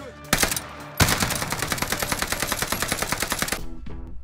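Rapid automatic gunfire from a video game shooter, a sharp opening shot then a long, loud burst of evenly spaced rounds for over two seconds before stopping, with faint clicks after.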